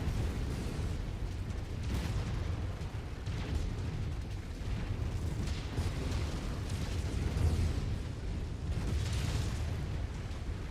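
Mechs firing weapons in MechWarrior 5, a steady barrage of rumbling booms and bursts layered into a continuous low roar, moderately distant and fairly faint throughout.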